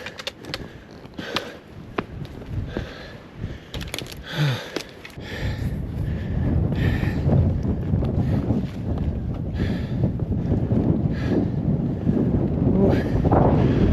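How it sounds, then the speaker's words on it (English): Cold wind gusts across an open Utah desert, a steady roaring rush that swells and buffets the microphone, rising louder after the first few seconds and continuing alone without talk. "That wind is cold."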